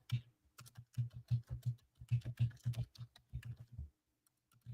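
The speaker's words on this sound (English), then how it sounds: "Don't be like, oh my God, you're typing so loud, Nanya" Loud, fast typing on a computer keyboard, close-up clattering keystrokes in quick irregular bursts with a short pause near the end.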